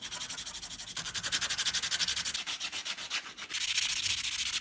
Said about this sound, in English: there's a lot of sanding needed.